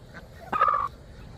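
A hen being held gives one short, loud squawking call in the middle, close by, surrounded by quiet.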